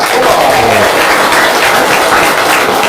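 Audience applause at an Indonesian religious gathering, a dense, steady wash of clapping from a large crowd that fills the whole stretch at high volume.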